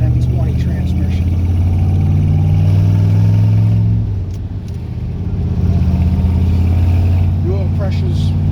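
A 1967 Corvette with a 427 390 engine and four-speed transmission while driving, giving a steady low engine drone throughout that dips briefly near the middle before resuming, with a voice talking over it.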